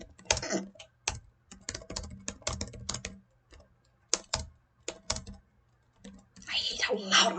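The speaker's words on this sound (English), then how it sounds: "I hate how loud my fucking keyboard is." Rapid clattering keystrokes on a loud computer keyboard come in quick bursts with short pauses, close to the microphone and fairly loud, with no voice over them.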